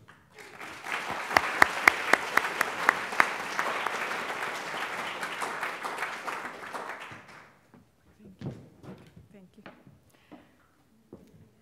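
Audience applause welcoming Maria Welsh to speak at the NC Biotech Center, a dense burst of many hands clapping for about seven seconds before thinning to a few scattered claps and fading out.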